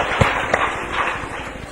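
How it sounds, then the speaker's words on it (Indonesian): Applause from a church congregation during a sermon, a moderately loud wash of many hands clapping with a few sharper claps standing out early, fading slightly toward the end. "Beri tepuk tangan yang meriah."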